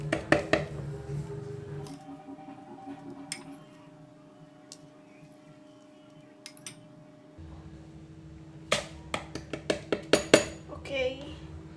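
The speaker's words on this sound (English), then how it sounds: "The first step is pour the instant coffee powder as much as 2 spoons" Instant coffee powder spooned into a cup for dalgona coffee, with several sharp metal spoon clinks against the cup at the start and a quick run of clinks near the end, separated by a quieter stretch.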